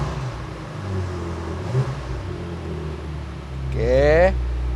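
A 2021 BMW M5 Competition engine rumbles low and then gives one short, sharp rev near the end, with a rising whine. A voice speaks briefly over the engine.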